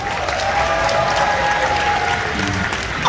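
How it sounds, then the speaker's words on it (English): A crowd at a theme park roller coaster announcement applauds in a steady, continuous round of clapping, fairly close and full throughout. "Give them a big round of applause."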